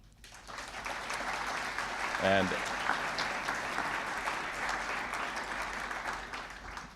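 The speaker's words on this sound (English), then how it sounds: "So give the panel a round of applause." An audience at a clean energy economy forum applauds a panel, steady dense clapping throughout at even volume, with a brief spoken word over it partway in.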